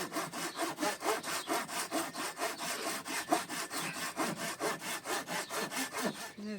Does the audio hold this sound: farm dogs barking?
no